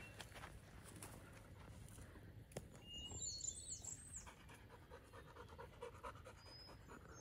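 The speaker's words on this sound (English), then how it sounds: "If you hear all the heavy breathing, minus the dogs" Dogs pant heavily on a mountain summit during a New Hampshire camping trip, quick rhythmic breaths close by and fairly faint, with a few footsteps and rustles around them.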